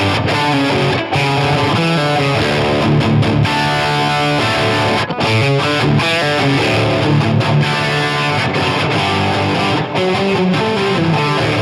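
An electric guitar plays through a Helix Stadium amp preset with a heavy distorted tone, dense chugging riffs and chords sustaining loud and close throughout with only brief breaks.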